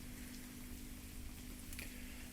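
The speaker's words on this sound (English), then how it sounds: "There's rain and thunder outside, booming and buffeting, and the waves are tossing you all to and fro." Steady, close rain pours outside in a constant wash as the ambience for a tabletop game, with no distinct thunder boom.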